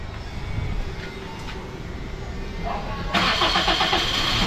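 A Toyota Altis with a misfiring, overheating engine and four new spark plugs cranks and fires up near the end, its engine noise swelling loud and steady over a rumbling background while people talk.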